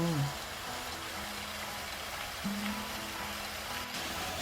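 A steady wash of falling water fills the air, constant and near, with a faint voice briefly murmuring beneath it.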